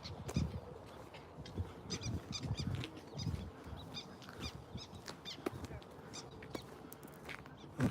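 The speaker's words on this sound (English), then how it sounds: "Listen to those birds." A mix of bird calls, honks and chirps scattered through the clip, fairly faint, with some voices mingled in the background.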